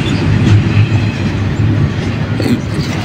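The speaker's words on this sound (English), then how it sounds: "This is a train. It's carrying some metals." A freight train carrying heavy metals rumbles past close by, loud and heavy, with a continuous low roar and rattling wheel clatter that has no voices over it.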